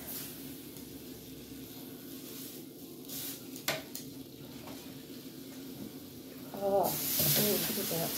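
A steak with onions sizzling in a hot pan, a steady frying hiss with a clank of cookware and a louder surge of sizzling toward the end as food hits the pan, with speech heard over it.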